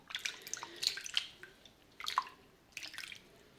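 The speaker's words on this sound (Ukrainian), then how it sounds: "Викладаємо грибочки у друшляк, щоб стекла вода." Boiled, rinsed honey mushrooms sit draining in a colander, giving off scattered watery drips and small splashes in a few short clusters, fairly close and quiet, with no voices.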